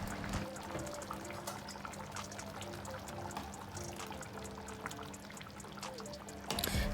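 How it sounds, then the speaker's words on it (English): Ketchup and beans are poured into a Dutch pot of Jamaican oxtail, a soft continuous trickling and wet dribble at low level, with a brief louder clatter right at the end. "So I'm gonna be adding my ketchup and my beans for the finish look and the finished taste"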